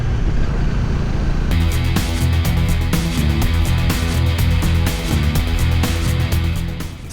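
Motorcycle riding noise picked up by the built-in microphone of an Insta360 Ace Pro 2 action camera: a loud, continuous engine drone with a steady pulsing rumble and wind rush, fading slightly at the end, and no voices.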